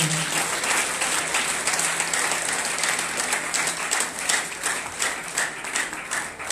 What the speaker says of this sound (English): Clap for Jesus again.